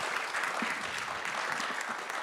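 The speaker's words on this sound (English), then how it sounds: "Can we give Brianna, Siobhan, and Dan an applause" An audience claps after conference presentations, a dense burst of applause close and fairly loud that holds steady for a couple of seconds.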